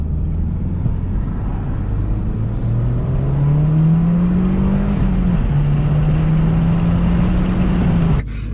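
A Mazdaspeed 6 with stock exhaust revs up steadily as it accelerates through second gear, rising pitch held for several seconds, then cuts off abruptly near the end.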